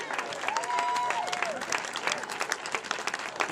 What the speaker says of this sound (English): A big round of applause, please, for Tim as he joins us on the stage